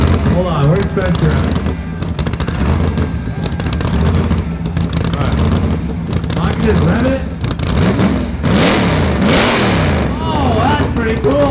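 A remote-controlled supercharged burnout truck engine revs loudly and continuously nearby, its pitch rising and falling with throttle blips, while people talk over it.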